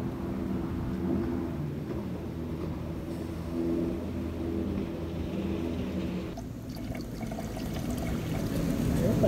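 Thick liquid boat paint poured sideways out of a bucket during DIY boat painting, a steady close pouring rush that keeps going throughout over a low background rumble.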